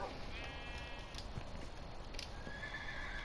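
Horse in a Minecraft world giving a faint whinny alongside soft hoof clip-clops, quiet and close with light background ambience.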